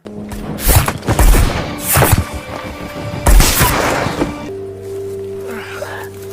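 Sniper rifle shots in the war film The White Raven: several loud, heavy gunshot blasts with rumbling tails, spaced about a second apart, followed by a quieter tonal hum.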